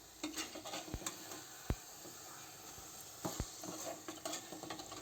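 Chicken is stirred and mixed in green masala in a pan, with soft sizzling under a few sharp clinks and scrapes of a spoon against the pot, heard close with no voices.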